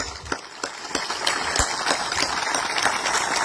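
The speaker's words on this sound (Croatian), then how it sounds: "I ovom prilikom želim da im odam počast i aplauz" Audience applause after a speech, a dense crowd of clapping hands that builds from scattered claps into steady, close ovation.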